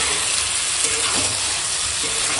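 Goat meat sautés in hot oil for a Bengali curry, a loud, steady sizzle and crackle close up throughout, with no one talking.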